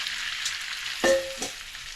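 Shrimp frying in a hot pan gives a soft, steady sizzle, and midway one brief clank rings out as the pan or a utensil is knocked.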